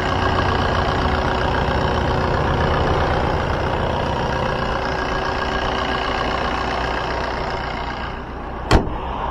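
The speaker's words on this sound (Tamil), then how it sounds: "இப்போ வாங்க வண்டியோட இன்ஜின் சவுண்ட் எப்படி இருக்குது அப்படின்றத கேட்போம்." A used Maruti Suzuki Swift Dzire diesel engine idles steadily with a low, even rumble, close by, with a single sharp tap near the end.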